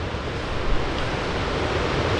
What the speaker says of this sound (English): 25-mile-an-hour winds. The blind is barely sitting here.